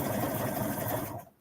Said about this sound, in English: So what I'm going to do is I'm going to zigzag it to the elastic